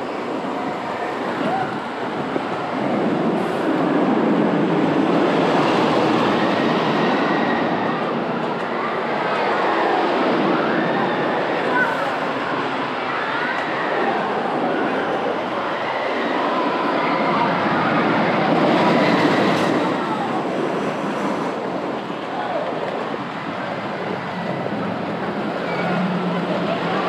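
Continuous rattling rumble of a 1.8-mile narrow gauge train ride through a forest at Knoebels Amusement Resort, wheels clattering steadily along the track for a long stretch, with faint voices now and then.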